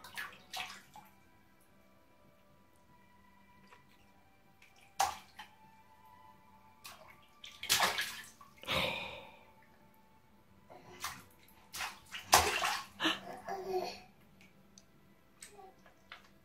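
A baby splashes water in a bathtub during a first bath: scattered splashes and slaps of water, a few louder bursts clustered midway, over a quiet room with faint drips.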